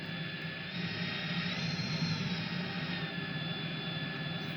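A replica jet turbine sound from a car sound system, idling as a steady, smooth turbine whine with a high tonal hum over broad rushing noise, holding constant throughout.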